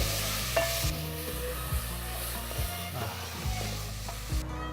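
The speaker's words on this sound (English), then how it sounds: "Now make sure these onions cook really nicely for around 7 to 10 minutes." Chopped onions cooking in a pan for a curry base, with a steady close sizzle and repeated stirring scrapes running throughout, no talk.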